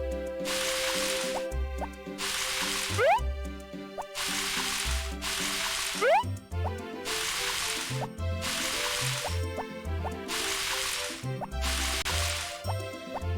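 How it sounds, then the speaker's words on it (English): Watering plants with a watering can in Harvest Moon: Back to Nature, repeated bursts of a splashing, spraying pour in a regular rhythm over looping game music, each lasting about a second. "Nice just having the very beginning of the day be me watering my plants."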